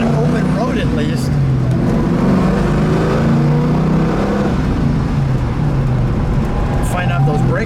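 A 1971 Ford Mustang Boss 351 with a four-speed manual, a white car with a red interior, pulls away on an open road. Its mid-pitched V8 roar stays loud and steady as it accelerates, with some low rumble and wind noise throughout.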